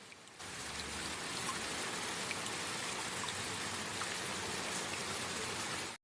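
Steady, dense rain pours through a dark stormy night in a Bengali cartoon, a continuous even hiss of drops with no breaks, fairly soft and unaccompanied by voices until it cuts off abruptly at the end.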